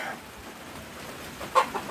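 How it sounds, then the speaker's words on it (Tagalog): A gamecock, a sweater cross, gives a short, sharp cluck near the end, against a quiet background hiss. "Ganda manok."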